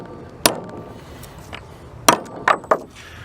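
Pounding blows on barn door flat track hardware in a torture test with loosely fitted screws: one sharp bang, then a cluster of three hard knocks a second and a half later, with faint clatter between, no talking.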